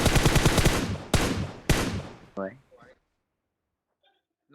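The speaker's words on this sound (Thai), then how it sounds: "ยิงเข้าไปในควันน่ะ" Gunfire in PUBG Mobile: a loud rapid burst of automatic shots, two more sharp bursts, then a brief trailing shot and near silence with a faint click at the end.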